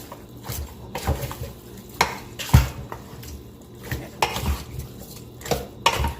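A homemade barbecue marinade is mixed in a bowl with a utensil, producing intermittent clinks, taps and scraping stirs at an irregular pace, close and moderately quiet, with no talking.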